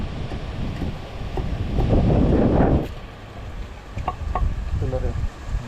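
Loud wind buffets the microphone in a heavy, roaring gust that swells and then drops away. Brief voices and outdoor noise can be heard around it.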